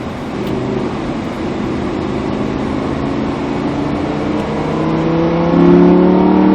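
Close, loud engine roar of a Lamborghini Huracan accelerating on the Mérignac race track, the rough note climbing in pitch and swelling louder toward the end, with no speech.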